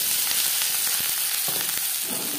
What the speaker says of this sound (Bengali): 3 চামচ রিফাইন্ড অয়েল তৈরি করে নিয়েছি। এবার দিয়ে দেবো পেঁয়াজ।